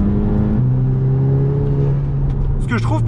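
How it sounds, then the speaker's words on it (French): A diesel Audi TT pulls hard at low revs, its steady engine drone rising and holding under the cabin, with a brief shift near the end. "là je roule avec mon diesel où j'ai du couple à bas régime"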